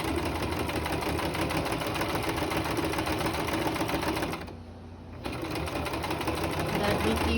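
A sewing machine runs steadily, stitching a seam along all four sides of a fabric mask, with a brief quieter pause near the middle before the close, even whir resumes.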